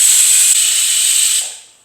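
A pressure cooker cooking chickpeas for Kerala-style curry lets out one loud, steady hissing whistle that holds for over a second, then tapers off and fades away.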